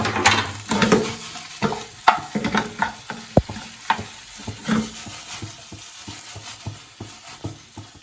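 Paneer manchurian frying in a pan, stirred with a utensil: irregular scrapes and clacks over a steady sizzle, close and fairly loud, with no voices.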